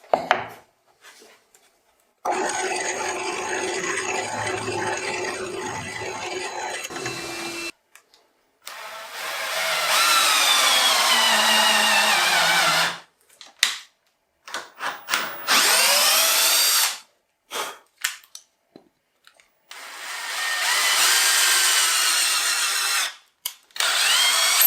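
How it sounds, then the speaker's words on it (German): A power drill bores a hole in a wooden piece, undersized for cutting an M6 thread, while a Makita router milling compass is being built. Several loud whining bursts of drilling are separated by short silences. "Wird natürlich etwas kleiner gebohrt, weil ich ein M6 Gewinde hinein schneide"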